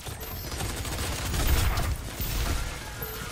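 Rapid gunfire and explosions from the beta of the video game DOOM, a dense, continuous barrage of shots and booms that swells in the middle, loud and alone with no talk over it.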